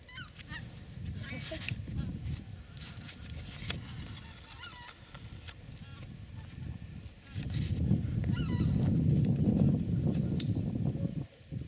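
A wedge-shaped flock of migrating birds, goose-like, passes overhead in early spring, their honking calls distant and scattered over wind and rustling, while people talk nearby.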